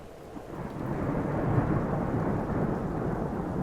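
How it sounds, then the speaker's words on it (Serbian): A deep, rolling rumble of thunder swells and sustains for several seconds, loud and close at a high mountain location, with rain hissing underneath. "Vidite, grom ovde udara non stop."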